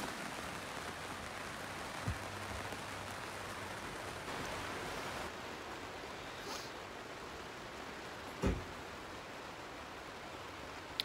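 Heavy rain falls steadily on a Peak District sheep farm, a broad, even hiss with a couple of brief knocks and thuds, heard quietly and at some distance.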